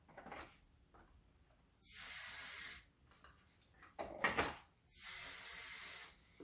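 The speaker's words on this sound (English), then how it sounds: "So now our dry oil spray we mist over the top." Two bursts of fine dry oil spray misting over hair hiss close by, each about a second long, separated by a soft handling clatter in quiet surroundings.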